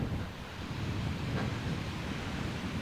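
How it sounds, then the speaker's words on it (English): Big swell breaking at a surf beach on an overcast day, a continuous broad rumble of surf and wind noise with no voices. "There's actually surfing here today too, because there's a really big swell."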